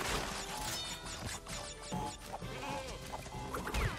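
Goat bleats from the Crash Bandicoot: Warped video game sound out amid busy game music and crashing box-break effects, with a quick, loud cry near the end.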